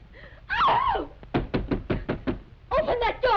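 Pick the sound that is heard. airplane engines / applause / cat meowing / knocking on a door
knocking on a door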